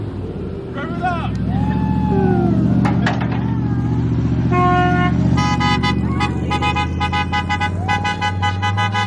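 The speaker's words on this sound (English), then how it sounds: "Rev it up." A yellow Mitsubishi Evo's engine holds a steady throaty idle then rises in revs, mixed with horn-like toots and chirping tones, loud and close as people shout and talk around the car.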